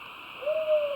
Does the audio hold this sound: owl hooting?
yes